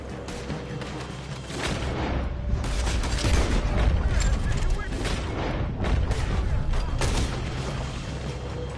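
Dense, continuous gunfire and booming shots crackle through a chaotic shootout in Red Dead Redemption 2, loud and close, overlapping with shouting voices and game noise throughout.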